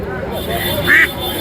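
At the Borobari haat, a village livestock market in Lalmonirhat, a goose gives one short, nasal honk amid close crowd chatter and voices.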